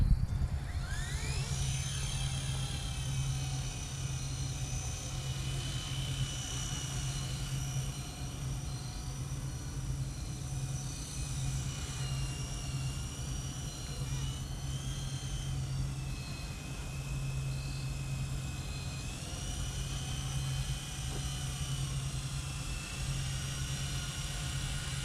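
A Blade 120 S2 RC helicopter flies continuously with a steady high rotor and motor whine whose pitch rises and falls as it maneuvers, heard at a moderate distance over a low constant hum.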